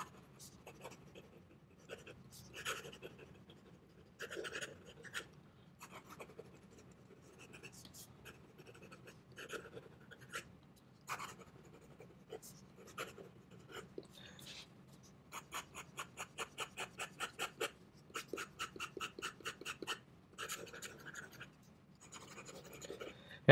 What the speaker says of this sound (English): Some fast writing.